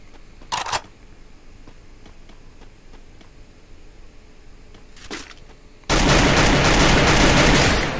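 Gunfire in the mobile battle royale game Free Fire: two faint clicky bursts early on, then a sudden loud, dense stream of automatic fire that keeps going for the last couple of seconds.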